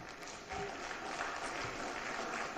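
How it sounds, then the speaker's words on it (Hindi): Continuous applause from a large audience at a gala literary event, swelling in after a brief quiet start and holding at a moderate, even level. "ये तालियों का सिलसिला है।"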